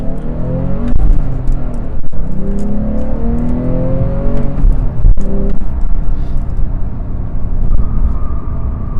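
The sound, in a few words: 2015 Porsche 991.1 Carrera S flat-six engine driving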